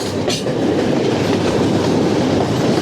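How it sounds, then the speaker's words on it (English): A train rolls across the Nine Arch Bridge with a loud, steady rumble of carriages and continuous clickety-clack from the wheels, close by and filling the whole stretch. "what a great way to experience the train along the 9 Arch Bridge for 20 rupees"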